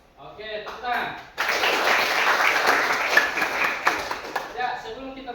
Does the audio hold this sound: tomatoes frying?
no